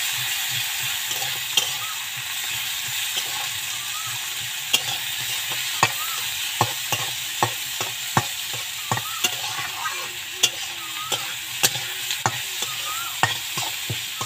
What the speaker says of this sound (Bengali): তবে লঙ্কা আর পেঁয়াজটা কিন্তু আমি একদম হালকা ফ্রাই করব